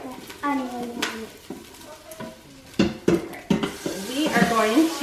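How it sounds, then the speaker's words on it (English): Hamburger meat for chili is stirred with onions in an Instant Pot, making soft scrapes and a light sizzle with a few sharper knocks, while a voice talks over it. "We are going to put all of our hamburger meat back in it and get it mixed up very well."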